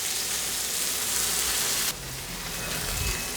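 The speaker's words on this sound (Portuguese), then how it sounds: "Agora que eu já selei o filé de tilápia," Tilapia fillets searing in a frying pan give a steady broadband sizzle, loud and close, that briefly drops in level partway through as the fillets are turned, then continues alone without talk.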